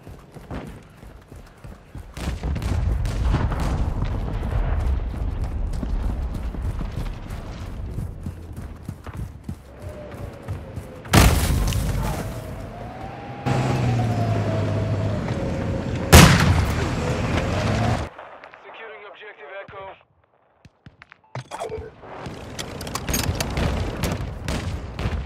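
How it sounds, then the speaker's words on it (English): Loud booming blasts and impacts from a cruise missile strike in the shooter game Call of Duty: Modern Warfare II, with dense rumbling explosions, sharp bursts and distant gunfire-like cracks rising and falling over roughly twenty seconds. "Cruise missile deployed."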